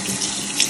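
Running tap water over a whiting fish being washed in a sink, a steady close splashing rush that fills the whole brief moment with no voices.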